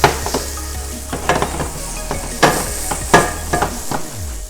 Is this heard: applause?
no